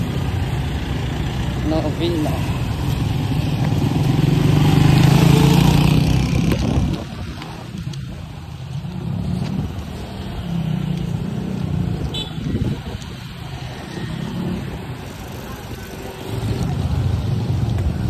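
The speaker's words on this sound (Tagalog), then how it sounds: "Yan yung sasakyan ni Kuya Red." A car engine runs at a steady idle and then pulls away, a continuous low hum that swells louder mid-clip before settling into a moving drone, with people talking over it throughout.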